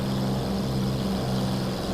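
A Hawker Hurricane's piston engine at full power in a flight simulator makes a steady, loud propeller drone with a constant low hum and broad rushing noise, unchanging throughout.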